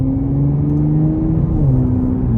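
Twin-turbo engine of a 2025 Nissan Z pulling hard under acceleration, heard from the cabin as a loud, steady low drone with a slowly rising tone and constant road rumble beneath, no voices.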